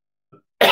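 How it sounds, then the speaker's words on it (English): A single short cough from an adult quiz host, close and fairly loud, bursting out abruptly after a faint throat sound in an otherwise quiet room. "I'm going to cough again"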